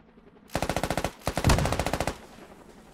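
MG machine gun in the video game Squad firing two fast bursts of about a dozen rounds each, loud and close, separated by a brief pause.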